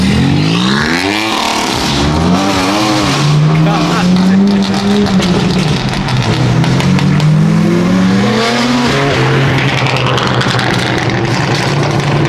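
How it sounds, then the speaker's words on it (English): Loud drifting cars, including a 1200hp BMW E36, rev and whine with rising and falling pitch, a continuous roar close by, with people talking and shouting over it. "our cars are so loud together."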